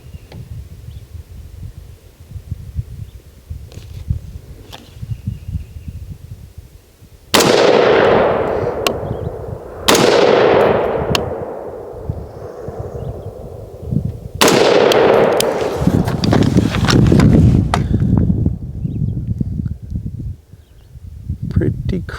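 Three loud gunshots from a Savage MSR-15 rifle fitted with a Meprolight Foresight sight, spaced a few seconds apart, each with a sharp crack and decaying echo, with quiet outdoor rustle in between.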